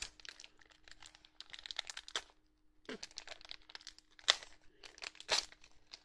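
Cardboard pieces of an advent calendar being cut and torn apart, giving crinkly, crackling rustles in bursts with a few sharper tearing snaps, close and moderately quiet.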